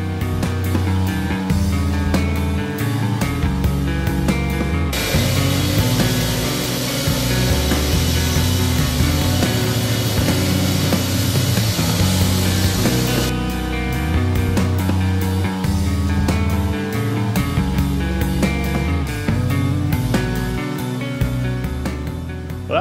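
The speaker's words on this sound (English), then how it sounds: "it hogs through some concrete, so this should do what I need it to do pretty quick." A gas-powered concrete saw cuts through a concrete slab for a sewer trench, a loud, continuous grinding whine with steady engine roar that intensifies midway as the blade bites deeper, running throughout with no talk.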